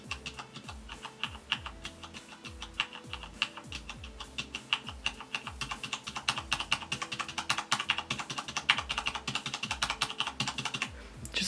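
Steady fast typing on a Corsair K95 RGB mechanical keyboard with red switches and O-rings fitted, a dense run of close, crisp keystroke clacks with no voices.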